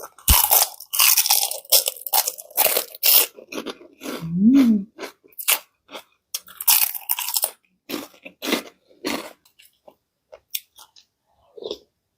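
Loud, close crunching bites and wet chewing of a spicy Thai salad of raw oysters and fresh shrimp with young leucaena shoots, in repeated crisp bursts with short pauses and no talk.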